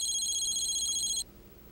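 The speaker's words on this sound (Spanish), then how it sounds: "Este teléfono no para de sonar." A telephone rings indoors in a steady, high electronic trill that runs for just over a second and then cuts off abruptly, leaving quiet room tone.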